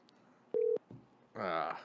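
A single telephone dialing tone, a short steady electronic beep, sounds as someone places a phone call; it is followed by a brief click, and then a voice starts speaking.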